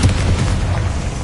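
A fiery blast from the Confringo spell in Hogwarts Legacy, a dense, rumbling boom that holds steady and loud for its whole short length with no voices.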